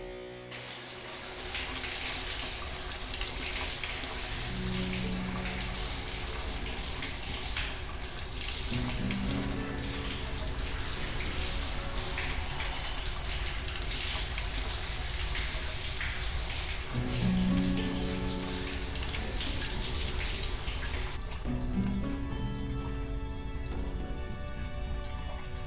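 Steady running water patters and hisses continuously for the whole stretch, like a shower spraying onto a surface, with faint tonal hums underneath.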